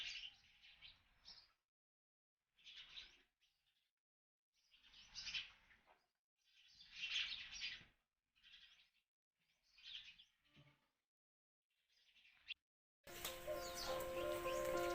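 Sparrows chirp in the morning at a village home, short bursts of bright twittering calls coming and going in clusters with quiet gaps, moderately near, followed by a louder stretch of busier sound at the end.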